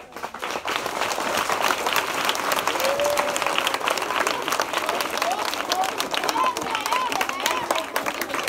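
A crowd at a school ceremony applauds to welcome a visiting donor with sustained, energetic clapping that runs throughout, mixed with cheers and a few high voices.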